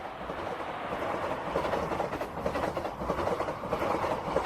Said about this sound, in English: a passenger train is already coming